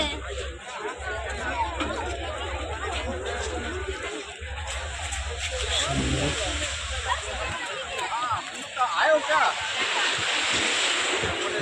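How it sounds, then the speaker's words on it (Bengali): Sea waves at Digha beach roll in and break, a continuous rushing surf mixed with wind buffeting the microphone, while a voice and distant crowd chatter carry over the water. "সমুদ্রের ঢেউ আসছে এখন"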